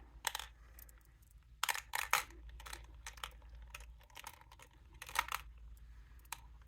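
Small crisp snips and clicks of scissors cutting a beading string between beads, several short sharp bursts at irregular intervals, close and quiet against a low hum.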